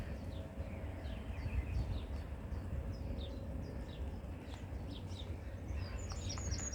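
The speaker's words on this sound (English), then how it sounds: "Oh, listen to the birds." Birds chirp and call in scattered short bursts around a marina on a summer day, mid-distance over steady low outdoor rumble and ambient noise.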